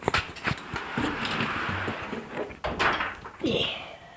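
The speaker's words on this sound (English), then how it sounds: "Going through the dog door." A dog pushes through a flap-style dog door, giving a couple of soft thuds and a brief clatter as the flap swings, with people talking and murmuring close by.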